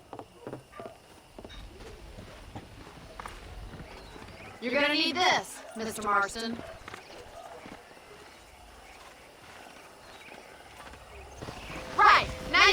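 Horses in the Western video game Red Dead Redemption, hoofbeats clopping along with bursts of whinnying and neighing in the middle, mixed with game speech and ambient birds.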